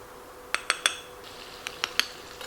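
Light brown sugar is packed into a one-cup measuring cup, heard as a few sharp scraping taps of a utensil against the cup in two quick bursts, fairly quiet.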